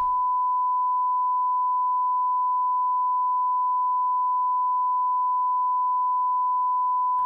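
A steady, pure test tone from an audio calibrator, fed into a Solidyne 542 APC FM audio processor, holds at one pitch for several seconds, clean and unbroken, with brief faint noise at the start and end.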